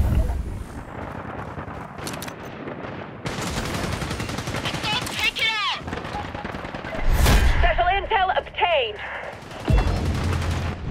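Bursts of automatic gunfire and heavier shots crackle loudly in the shooter game Caliber, overlapping one another, with a voice talking under the shooting at times and a couple of booming blasts.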